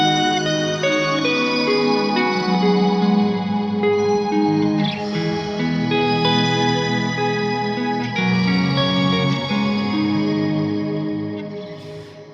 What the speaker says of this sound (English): most of the times your shimmers are gonna sound like this.